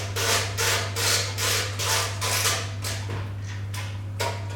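Screws are driven snug into a computer case with a magnetic screwdriver while building a home office PC, giving a series of about eight rhythmic scratchy turning strokes close by over a steady low hum.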